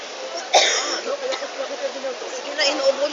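A person gives one sharp cough near the start amid chatter, with people talking throughout at close range.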